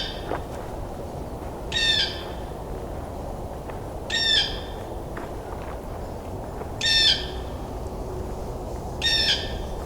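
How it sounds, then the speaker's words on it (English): Blue jay giving four harsh, squawking calls spaced a couple of seconds apart, fairly close, over a steady outdoor background hiss during a winter bird count. "Blue jays are quite talkative today"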